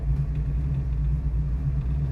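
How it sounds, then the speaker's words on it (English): Deep, steady engine rumble of a 1971 Chevrolet Camaro idling nearby, a low throaty drone that holds constant with a faint pulsing texture. "It's got a nice rumble to it too."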